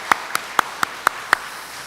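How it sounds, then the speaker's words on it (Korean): A congregation claps for a church choir with six sharp, evenly spaced claps rather than sustained applause, loud and close, with no talking over them. "격려의 박수 한번 했으면 좋겠습니다"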